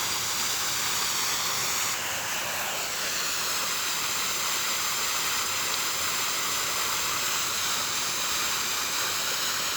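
A heavy rush of water pours across a flooded road in General Trias, Cavite, a constant broad roaring hiss that stays loud and unbroken throughout.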